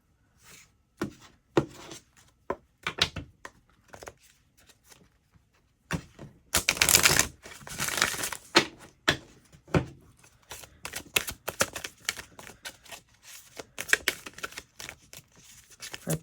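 An oracle card deck is shuffled by hand in close, crisp riffling bursts and taps, sparse at first and then building into a dense run of rapid flutters before easing into scattered clicks.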